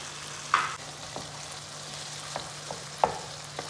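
Spoon stirring egg halwa with khoya in a pan, a few soft scraping strokes at irregular intervals over a faint low sizzle, close and quiet.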